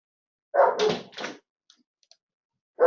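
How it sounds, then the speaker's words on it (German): A dog barking outdoors, a few sharp close barks in quick succession followed by quiet, with another bark starting at the end. "mein Hund möchte immer wieder mal ein Kekschen haben. Dann macht er draußen Radau."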